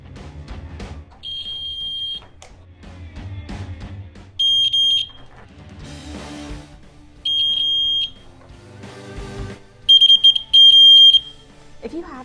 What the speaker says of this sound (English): So what do you think is going to happen if we apply higher voltages to our buzzers?